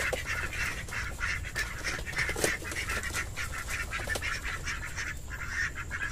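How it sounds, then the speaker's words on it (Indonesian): Female ducks quacking loudly and repeatedly on a farm, a dense run of harsh honking calls close by, with no talking. "Itik betina ni dia macam perempuan. Dia kuat-kuat-kuat-kuat. Mekak je."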